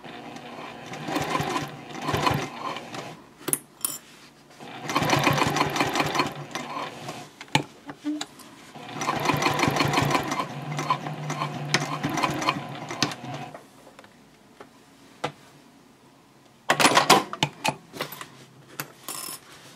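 A sewing machine stitches through bag fabric at a gusset join on a bowler bag, running in several loud, rattling bursts of rapid mechanical clatter separated by short pauses.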